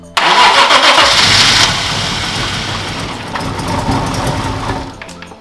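An old BMW E30 car engine, fitted with a new fuel pump, cranks and catches loudly, then settles into a rough, steady idle with a slight rev.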